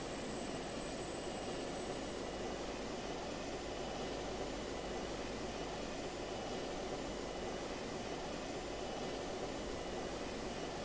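Airplane engine drone from Just Cause 2 while the plane flies upside down, a steady broadband roar with a thin high whine, continuous and loud throughout with no voices.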